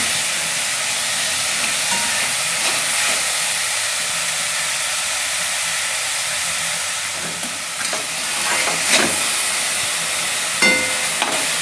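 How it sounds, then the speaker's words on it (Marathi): Sprouted moth beans (matki) fry in oil in a pan, giving a steady sizzling hiss with occasional stirring scrapes and clinks, close up and with no talk. "मटकी चांगली तेलावर फ्राय झालेली आहे"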